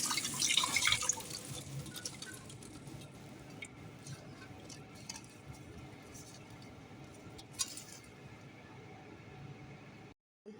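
Tap water runs and splashes while curry leaves are washed in a kitchen, with a steady trickle and drips that fade after a louder first second, no talk.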